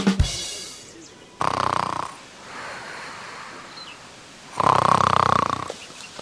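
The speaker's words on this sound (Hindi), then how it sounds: "हम तो खर्राटा में सोई" Exaggerated comic snoring from an old man sleeping at night in an Awadhi comedy skit, two loud drawn-out snore bursts separated by quieter breathing, close and prominent.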